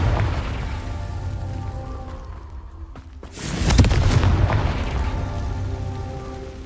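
A Confringo explosive spell in the video game Hogwarts Legacy: a sudden loud blast midway with a roaring, crackling burst that stays under a continuous game soundscape, with no talking.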